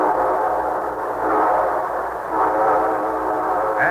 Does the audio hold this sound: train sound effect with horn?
yes